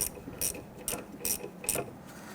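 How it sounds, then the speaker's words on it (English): A wrench ratchets in short bursts, tightening a rear brake bleeder screw on a 2011-2021 Jeep Grand Cherokee, about five quick clicking strokes spaced evenly, close and fairly quiet, with no talking. "We can now go ahead and close up that bleeder screw."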